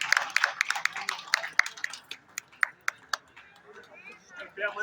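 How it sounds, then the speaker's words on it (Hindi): Crowd clapping welcomes guests at a Holi gathering, a patter of scattered claps and sharp hits that thins out over a few seconds, with a voice speaking over it. "जोरदार तालियों के साथ स्वागत अभिनंदन और वंदन करते हैं।"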